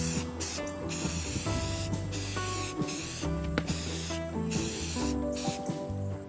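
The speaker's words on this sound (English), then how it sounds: "I went ahead and sprayed it with primer" A spray can applying primer to a wooden desk panel, several loud, close hissing bursts separated by short pauses.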